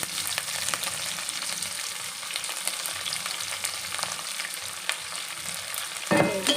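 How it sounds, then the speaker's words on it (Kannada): Onion, green chillies and curry leaves fry in hot oil with a continuous close sizzle and light stirring, then a louder burst of crackling at the end as more goes into the pan. "ಈರುಳ್ಳಿ ಕರಿಬೇವು ಸೊಪ್ಪು ಹಸಿಮೆಣಸಿನ್ಕಾಯಿ ಮೂರು ಹಾಕ್ತೀನಿ"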